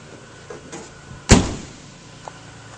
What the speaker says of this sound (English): all the doors shut real solidly